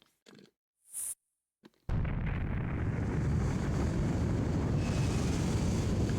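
In the video game Overblood, a few brief clicks and a tone give way to a sudden explosion that becomes a loud, sustained roaring rumble lasting several seconds.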